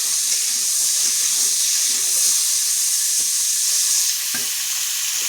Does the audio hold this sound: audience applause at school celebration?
no